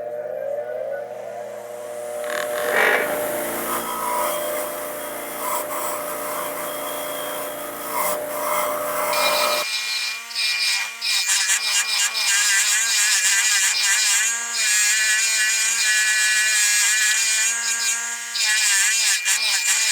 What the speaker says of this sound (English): we are going to move over to our brass wire wheel to remove any remaining residue